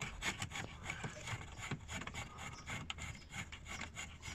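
A screwdriver turning and loosening a screw on a Mercedes Vito/Viano W639 heater control panel, giving close scraping, grinding rasps in short repeated strokes.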